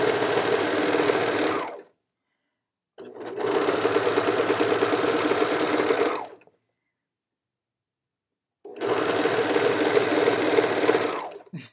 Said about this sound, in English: So I'm just going to sew it off when I get ready because this was too long.